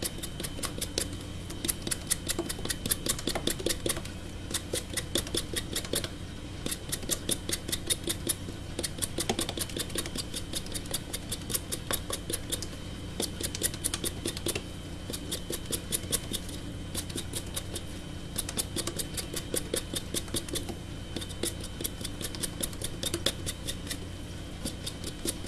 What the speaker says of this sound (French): je vais vous apprendre à éplucher une pomme de terre olympique